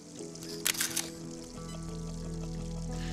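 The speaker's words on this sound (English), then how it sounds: "You can hear that waterfall just gently trickle down behind the frozen icicles." A waterfall trickles and pours steadily behind frozen icicles in Glacier National Park, Montana, with a brief brighter splash near the start and a low, constant hum beneath.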